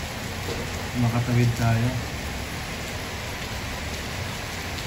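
Heavy rain pouring down in Doha, a dense, loud, continuous hiss of water on surfaces, with a person briefly speaking over the downpour.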